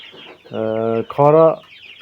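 A rooster gives two short, harsh, throaty calls in quick succession, close and loud, with faint background noise around them.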